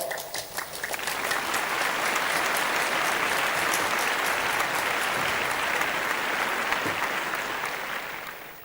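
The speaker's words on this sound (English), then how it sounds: "I think we need to give applause to all of them." A large audience claps steadily, a dense sustained applause that swells quickly and tapers off toward the end.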